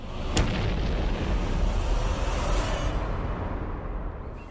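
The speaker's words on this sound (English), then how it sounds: "a sudden explosion shattered the quiet of a small village" A loud explosion blast rolls out as a broad, continuous roar that fades slowly over a few seconds, with no voices.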